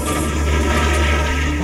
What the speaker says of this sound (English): And remember, don't flush with your hands.